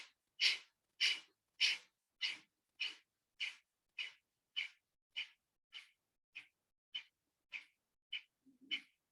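Rapid rhythmic breathing in a guided breathwork exercise, about fifteen sharp, forceful breaths at a steady pace, close and alone, each burst evenly spaced and gradually softening.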